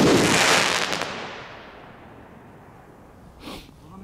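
Firework rockets from a Dum Bum set launch and burst in an urban setting, a loud crackling blast at the start that fades into a long rumbling decay, then a smaller pop near the end, with no talking.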